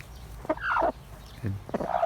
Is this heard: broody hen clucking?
yes